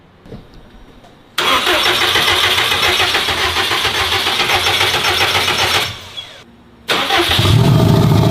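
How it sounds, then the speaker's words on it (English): A Subaru engine cranks and fires up, then runs loudly and steadily for several seconds, cuts out briefly, and catches again with a louder, rougher idle. "We just wanted to see if the engine would fire."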